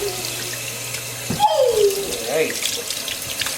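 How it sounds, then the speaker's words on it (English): Water runs steadily from a tap while a six-week-old Aussiedoodle puppy is rinsed during a bath, a continuous splashing hiss with a brief spoken word over it. "Get you all rinsed off here."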